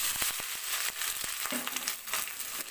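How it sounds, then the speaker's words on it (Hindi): Onions fry in very hot oil in a pan, a steady close sizzle with a few sharp pops and stirring scrapes. "ऑयल हो चुका है काफ़ी गर्म, और अब उसमें डाल देते हैं प्याज।"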